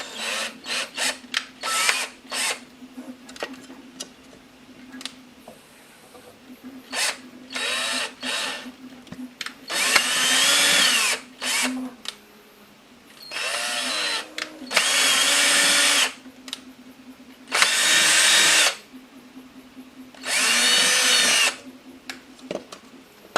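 A power drill bores a hole through the plastic shell of a Burger King Game Boy Color toy, whirring in short bursts and then several longer, louder runs separated by pauses, close up and without speech.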